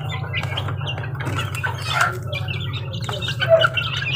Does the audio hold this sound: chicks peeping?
yes